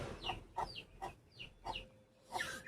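Guinea fowl forage and cluck on a farm: a run of short, bright clucks and chatter comes in repeated bursts at moderate distance, with no talk over them.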